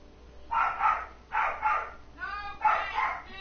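A dog barks repeatedly in the King's Quest game, paired barks in a steady rhythm with a short whimpering yelp between them, fairly close and loud against a quiet background.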